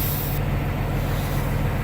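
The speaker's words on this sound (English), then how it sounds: "I'm gonna go inside the cab and release the emergency brake" Air hisses steadily from a truck's emergency air brake being released in the cab, a loud continuous rush over a low idling engine hum, with no talk.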